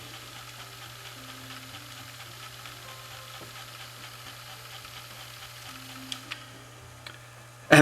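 A Maxell DV tape rewinder whirs steadily as it rewinds a tape, a low constant motor hum under fine ticking mechanism noise, ending in a few sharp clicks.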